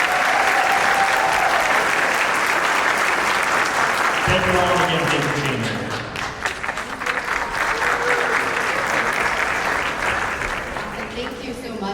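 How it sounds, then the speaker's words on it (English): Audience clapping loudly at a film festival's opening night, a dense sustained burst of applause that fades slightly as someone speaks over it. "can we just give a quick applause for the people who are showing us their art"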